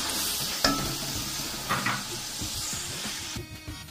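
Tomato paste, made from two large tomatoes, sizzling and frying steadily in a pan for mutton kofta curry, with a few spoon stirs and clinks over the continuous hiss, no voices.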